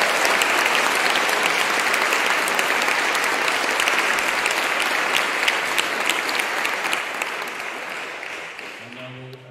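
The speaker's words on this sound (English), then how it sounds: "So give them a big round of applause as well." A school house music competition audience gives a long, loud round of applause that holds steady and slowly tapers near the end, where a faint voice begins.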